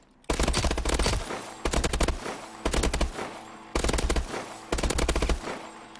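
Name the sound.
gunfire at the firing range in Call of Duty: Advanced Warfare video game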